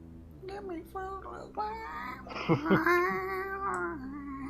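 A hungry house cat meows several times in drawn-out, wavering cries, loud and close, the calls rising and bending in pitch, with people talking around it during a tabletop game session.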